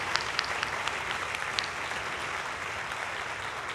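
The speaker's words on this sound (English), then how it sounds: "So let's give them a round of applause, please." Audience applause for band camp staff at a junior high band performance, a steady wash of clapping from a crowd filling the whole stretch at moderate loudness.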